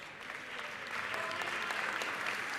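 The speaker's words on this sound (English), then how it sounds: "Give them a big round of applause" Steady applause from an audience in a legislative session chamber, moderately distant, building slightly after a second and continuing without talk.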